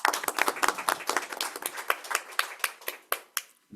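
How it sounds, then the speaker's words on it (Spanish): Conference audience applause at an international legal studies gathering, a cluster of distinct hand claps that starts fairly full and thins into sparser, separate claps from a smaller group before stopping. "para quien pido un gran aplauso"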